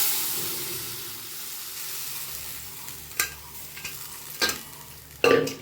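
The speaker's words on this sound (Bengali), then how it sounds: "তেলে দিয়ে দিয়েছি বন্ধুরা রাঁধুনি ফোড়ন, আর এর মধ্যে একটা কাঁচা লঙ্কাও দিয়ে দিয়েছি" Radhuni seeds and a green chili temper in hot oil with a continuous close hiss and sizzle, then a few sharper bursts of spattering and stirring near the end.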